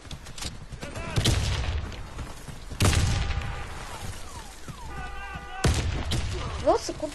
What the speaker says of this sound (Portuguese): Nossa, quanta granada.